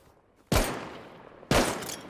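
Two sharp gunshots from the online survival game Rust, spaced about a second apart, each a loud broadband crack with a decaying tail, and no voices over them.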